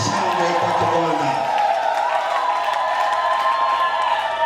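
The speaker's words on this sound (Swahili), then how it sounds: "Hebu ongeza makofi na vigelegele na shangwe kwa Bwana." A church congregation at a Fire Conference gathering bursts into loud, sustained applause, cheering and ululation. The dense crowd roar holds steady throughout, with a voice briefly audible at the start.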